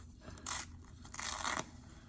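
Scissors snip through a tight hair tie on a baby's hair, two short crisp cuts close to the mic separated by a brief pause, against quiet room background.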